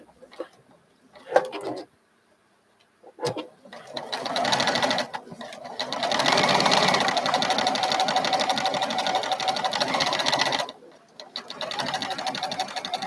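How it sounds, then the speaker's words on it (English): A sewing machine stitches a Christmas quilt block in long steady runs of fast, even whirring, starting after a few brief stops and short bursts, close up with a voice speaking over parts of it. "I want you to listen and watch how good this sews. But listen how quiet this is."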